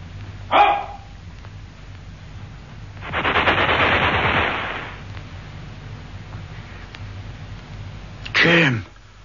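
A gunshot in a radio-style audio drama is heard as a rapid burst of sharp cracks lasting a couple of seconds, set between brief bursts of voices, with a faint room hum underneath.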